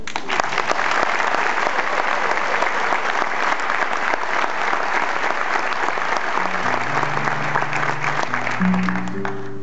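Concert audience at a Mar del Plata guitar performance applauding steadily for nearly ten seconds, a dense even clatter of many hands, while low sustained guitar or bass notes enter toward the end.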